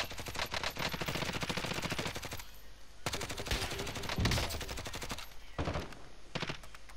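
Call of Duty: Modern Warfare gunfire: long rapid automatic bursts with brief pauses between them, loud and dense, mixed with a few heavier single shots and no talking.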